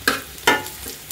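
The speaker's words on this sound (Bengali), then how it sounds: "মাথাটা তো মচমচা করে ভাজছি" Prawn heads being fried crisp in a pan for a Bengali prawn-head bharta, giving two short bursts of sizzling and stirring close by, with quieter frying between.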